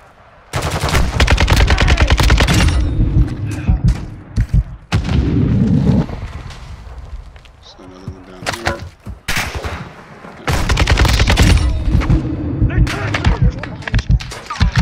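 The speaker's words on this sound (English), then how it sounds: "Taking effective fire!" Heavy automatic gunfire in the Call of Duty DMZ video game, long loud sustained bursts of machine-gun fire with brief gaps between them, close and dominant.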